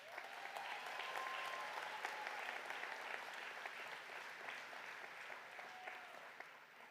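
A commencement crowd applauds honors graduates at a winter graduation ceremony, a broad, sustained roar of clapping heard from a distance with a few faint whistles, fading slightly toward the end.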